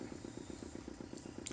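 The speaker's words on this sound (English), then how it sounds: "The motor spluttered into life." A lift motor in the point-and-click game Broken Sword 2 sputters into life, with a steady low chugging pulse of even beats over a rough mechanical hum, held at a constant level with a faint higher clank near the end.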